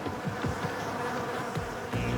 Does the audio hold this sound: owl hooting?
no